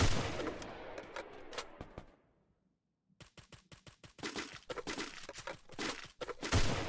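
Gunfire in a shooter video game, sharp close shots in irregular bursts, falling to near silence partway through before a fresh volley of rapid, loud cracks resumes.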